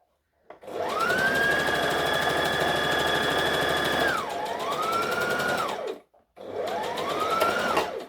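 A sewing machine stitches in an armhole on a Halloween costume, motor whirring steadily for several seconds, slowing and dipping in pitch, then stopping briefly before a shorter second run.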